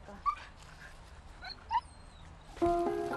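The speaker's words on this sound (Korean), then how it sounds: "원하는 방향으로 가지 못하자 더 심하게 낑낑대는 녀석." A beagle on a leash whimpers in a few short, high whines spaced apart, fairly faint, then a louder burst of noise near the end.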